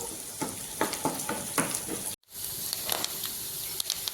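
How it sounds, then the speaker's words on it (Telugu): Tomatoes and curry leaves sizzle steadily in a hot pan for an eggplant curry, a close, constant frying hiss with scattered pops and stirring scrapes, briefly cut off partway through. "కరివేపాకు అయితే ఒక 1 మినిట్ వేగిన తర్వాత అయితే టమోటాలు అయితే వేసేసుకున్నాము"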